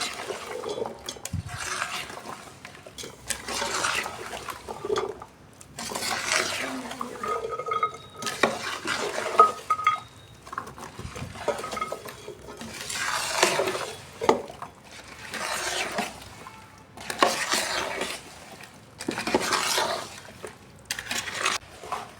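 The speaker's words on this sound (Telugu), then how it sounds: "ఇది మనం కొలతతో కొలుచుకున్న ముక్కలు వేసుకొని బాగా కలుపుకోవాలి." Mango, ginger and garlic pickle pieces mixed in a bowl with spice, giving wet squelching and clinking stirs in uneven bursts, close up and without talk.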